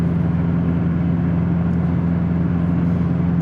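A 457 WHP stock-block Subaru STI cruises through downtown streets, its engine a steady, close drone with a strong low hum that holds at an even level throughout, no voices over it.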